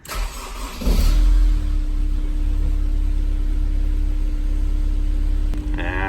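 A Honda S2000 engine starts with a burst and settles into a loud, close idle with a steady hum, carrying a misfire that makes it run rough and lumpy.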